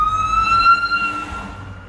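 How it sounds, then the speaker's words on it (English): An ambulance siren on the road sounds as a steady high wail with a clear tone and harmonics over low road rumble, heard from a moving vehicle. "There was a siren"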